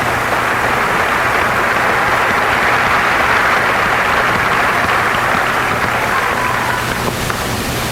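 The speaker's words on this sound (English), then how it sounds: "You can go ahead and give our seniors a round of applause" An audience claps for the senior players at a 1982 Plymouth basketball celebration, a loud, thick and continuous wash of applause that holds steady for several seconds and then thins slightly near the end.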